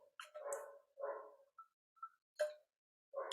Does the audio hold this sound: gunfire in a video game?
no